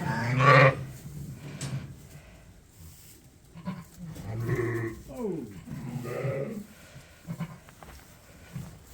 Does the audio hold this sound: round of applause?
no